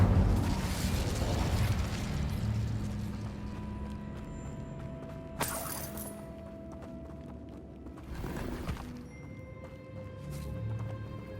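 In Hogwarts Legacy, the Incendio fire spell is cast: a sharp burst erupts, then a second, softer whoosh follows a few seconds later over a low rumbling game ambience.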